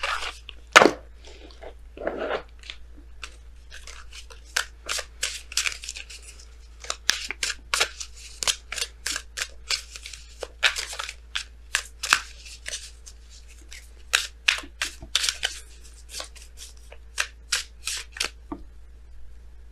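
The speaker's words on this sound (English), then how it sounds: "So we're going to go ahead and pull you guys your Messenger Oracle cards." Messenger Oracle tarot cards are shuffled close by in a long run of quick, crisp riffles and taps against a quiet background, with no talking.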